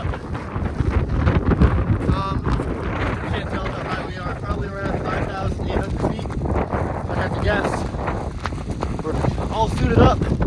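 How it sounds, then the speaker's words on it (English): Strong blizzard wind near 5,800 feet on Mt Washington roars and buffets the microphone continuously, loud and gusty, while a person talks over it. "Wind is starting to pick up."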